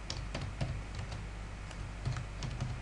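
Computer keyboard typing a product name into a wholesale shop's cashier software, a steady run of close, clicky keystrokes in irregular bursts over a low background hum, no voices.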